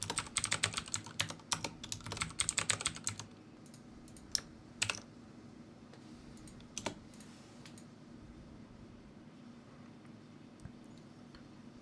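Someone types on a computer keyboard, a fast burst of close key clicks for about three seconds, then a few scattered keystrokes and mouse clicks over a quiet room hum.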